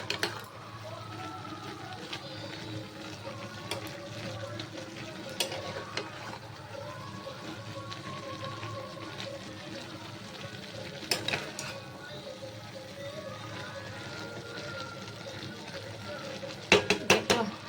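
A spoon scrapes and clinks in a pot of taro leaf curry with turmeric, green chillies and a little sweetener, quiet repeated metallic stirring with occasional sharper knocks.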